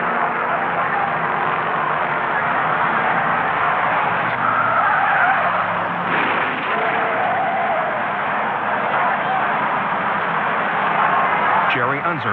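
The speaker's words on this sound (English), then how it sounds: "Third turn, Alesian spun, taking Rathmann into the wall, starting a massive pileup." Race cars roar and skid through the third turn during a massive Indy 500 pileup, a dense, loud, continuous engine and tire din with a brief scrape near the end, with a narrator talking over it.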